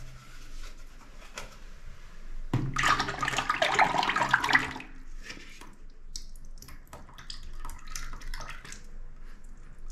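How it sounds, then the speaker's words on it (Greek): Paint for a damp, mold-prone bathroom pours into a bucket in a loud, splashing gush lasting about two seconds, then gives way to quieter dribbles and small clatters nearby. "Το ρίξουμε εδώ σε ένα κουβά."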